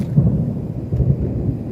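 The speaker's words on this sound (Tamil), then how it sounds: "இடியும் இடிக்குது." Thunder rumbles over mountains near Ormoc City during rain, a low, continuous rolling roar that swells and fades without sharp cracks.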